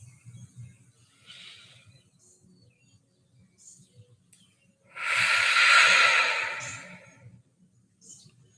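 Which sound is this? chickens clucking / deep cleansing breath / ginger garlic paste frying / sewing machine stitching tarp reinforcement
deep cleansing breath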